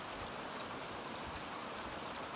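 A cold spring rain shower falls steadily as the temperature drops. It makes an even, continuous hiss of drops hitting the ground with no pauses or voices.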